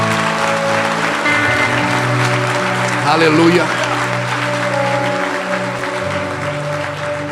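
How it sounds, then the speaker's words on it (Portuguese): A church congregation claps steadily throughout, a broad wash of applause with a voice calling out over it. "Aplaude o Senhor pela vida dela."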